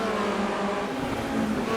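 Formula Renault race cars roaring past on a circuit while battling for position, a steady, loud, dense engine drone with no gaps and no talk over it.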